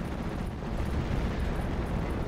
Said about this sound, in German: der erste Schuss des Tigers ging daneben